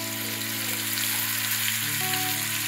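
Potatoes sizzling in hot oil with cumin seeds, a steady bright frying hiss that continues evenly throughout.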